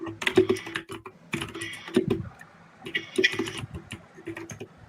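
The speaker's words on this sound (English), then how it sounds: "Someone's typing really, really, really, really hard." Loud, clacky keystrokes on a mechanical keyboard hammer away in quick uneven bursts, close and heavy, with short pauses between runs.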